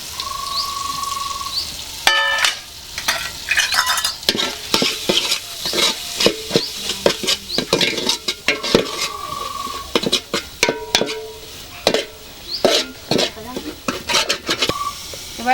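Garlic, ginger, chilli powder and cumin powder fry in a pan, with a busy sizzle under repeated scraping and clinking strokes of a stirring spoon, some brief squeaky tones between them.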